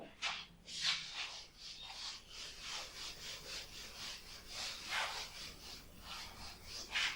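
Writing on a classroom board is rubbed off with steady, rhythmic back-and-forth scrubbing. The sound is close and continuous and is heard alone.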